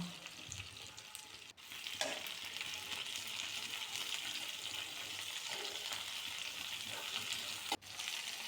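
Sliced onion and curry leaves sauté in hot oil in a pan for a curry, giving a steady, bright sizzle with scraping stirs and a couple of sharp clacks of the spoon.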